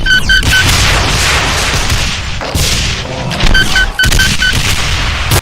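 Rapid volleys of weapon fire from a Revenant variant in a Doom mod, with dense overlapping blasts and explosions that are loud and continuous, punctuated by short bursts of repeated high shots.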